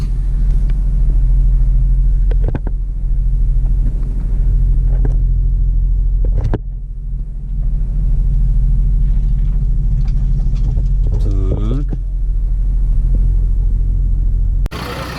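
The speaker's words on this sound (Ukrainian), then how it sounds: "машину вигружають разом зі мною" A car being unloaded from a transporter truck, heard as heavy, continuous low engine rumble with sharp metallic clanks and knocks scattered through it, close and loud, with no talk.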